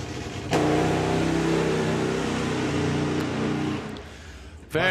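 A drag racing motorcycle makes its run at a drag strip. A loud, steady, high-pitched engine roar bursts in suddenly and holds for several seconds, then drops away.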